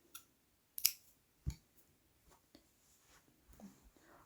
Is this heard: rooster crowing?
no